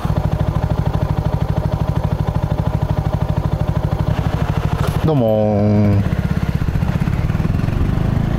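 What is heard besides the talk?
Mutt DRK motorcycle engine idling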